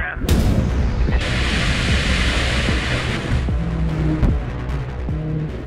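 A Delta II rocket explodes with a sudden, loud blast that turns into a broad roaring rumble, followed by scattered thuds and crackles as it fades.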